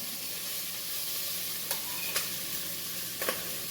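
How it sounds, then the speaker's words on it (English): Corned beef with garlic, onion and scallion heats in a pan, giving a steady close sizzle with a few light stirring scrapes and taps over the frying hiss. "So I'm just gonna heat up the corned beef."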